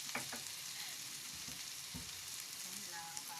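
Vegetables sautéing in a pan give a steady, moderate sizzle with a few soft stirring knocks near the start, with no voices.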